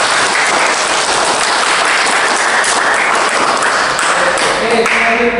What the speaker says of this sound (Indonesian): Tepuk tangan dulu yang pikir.